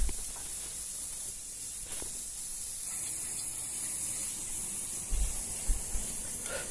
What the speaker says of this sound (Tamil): வெங்காயம் வந்து நல்லா சூப்பராக வதங்கிட்டு இருக்கு